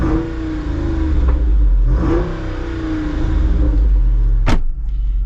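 A 2024 Jeep Wrangler 392 Final Edition with a naturally aspirated large-displacement V8 and performance exhaust rumbles loudly up close, with two surging revs and a sharp spike near the end, heard on its own.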